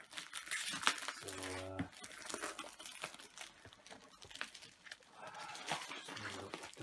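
Masking tape, doubled in layers, is peeled off the packaging of a PS1 console, giving rough close tearing and crinkling noises in uneven bursts, with a brief spoken word.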